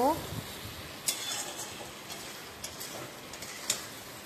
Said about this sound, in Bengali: এবার একটু ভালো করে ভাজতে হবে।